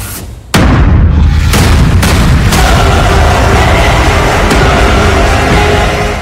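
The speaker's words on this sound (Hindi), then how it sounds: "इजराइल पर हुथी ने बहुत बड़ा मिसाइल हमला कर दिया है" Missile attack explosions over Tel Aviv: a loud booming blast starts a sustained roar, with a few further sharp bangs cutting through the dense rumbling noise.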